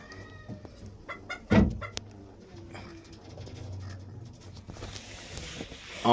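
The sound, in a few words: fancy chickens clucking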